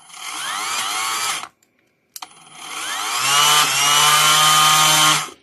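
A Parkside Performance 40V cordless brush cutter whines up to speed twice, a brief stop between runs, then a second steady start that settles into a loud, high motor whine with a low hum underneath.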